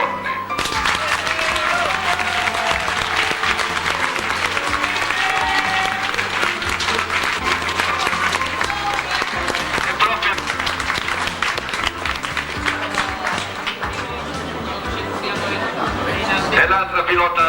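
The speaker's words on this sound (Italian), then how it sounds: "E vi prego di tributare un grosso applauso alla componente femminile, alle nostre donne" Sustained applause fills a vintage car rally awards ceremony, dense, steady clapping from a large audience with crowd chatter and a few voices mixed in throughout.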